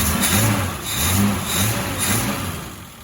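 A Datsun 260Z engine with a rough, slightly high idle runs steadily on its first start, its low rumble swelling and easing in gentle surges as the revs rise and fall, close and alone.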